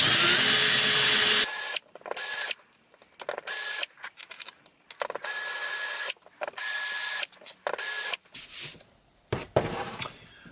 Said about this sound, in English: I'm now going to countersink the holes that I've drilled